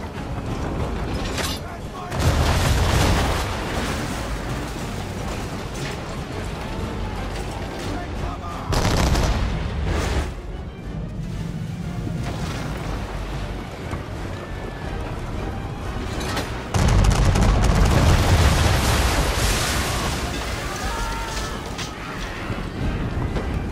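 Cannon and gunfire battle in a video game about fighting King Washington: dense, continuous volleys of musket and cannon fire with louder bursts throughout, sustained and close, with some speech mixed in.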